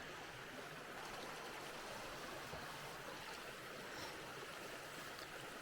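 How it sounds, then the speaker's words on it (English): Spring water bubbles out of the ground along a rugged, remote route, a soft, unbroken wash of flowing water with no voices. "the spring kind of comes out of the ground here also, just bubbling out"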